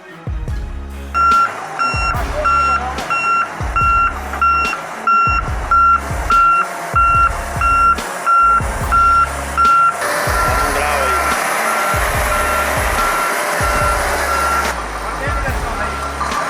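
A steel bulldozer rescuing a truck stuck in snow sounds its reversing alarm: loud, evenly spaced beeps repeat for about nine seconds over a heavy engine rumble, then stop while the engine keeps running.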